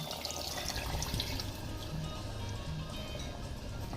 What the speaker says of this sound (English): I'm going to add this broth, meat broth.